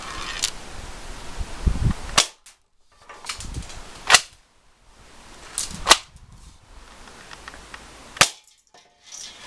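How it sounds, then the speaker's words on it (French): A model 52211 pump-action airsoft gun shoots at an Orangina can, giving four sharp, snappy cracks spaced about two seconds apart, with softer pumping and handling noises between shots. "on va tirer sur une canette d'Orangina toute simple"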